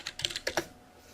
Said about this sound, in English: I can type in Cura Slicer.